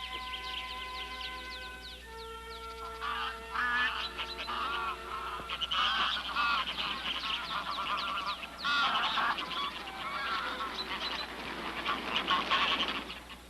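A flock of young geese raised by their own kind honk and call repeatedly, with overlapping nasal cries rising and falling throughout, fairly close and busy.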